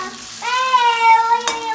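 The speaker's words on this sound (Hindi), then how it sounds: "अब इसको मिक्स करके पकाएंगे एक दो मिनट तक।" Kundru (ivy gourd) sabzi stirred in a pan, with a steady sizzle of frying beneath brief scraping strokes of a spoon, close and fairly loud, without talk.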